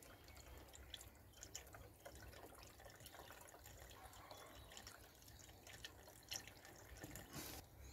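Coolant poured into the cooling system of a K-Series car engine makes a faint, continuous trickle and gurgle of liquid, with a soft low rumble and a few small drips and splashes.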